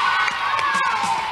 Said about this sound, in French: Bravo Thomas, on l'applaudit.